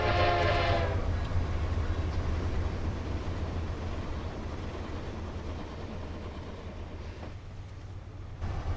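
Amtrak diesel locomotive in Train Simulator Classic, a steady low engine drone with rail rumble, a loud horn blast at the start and a brief higher tone near the end, no talk.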